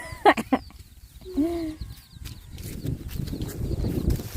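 Farm chickens cluck and squawk in a few short bursts near a cattle farm, followed by rustling outdoor noise and a faint low rumble.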